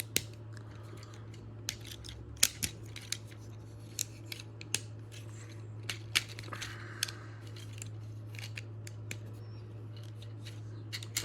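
Plastic pieces of a Transformers Menasor toy being folded and snapped together produce a scattered series of small, sharp clicks and ticks, close up and quiet, over a low steady hum.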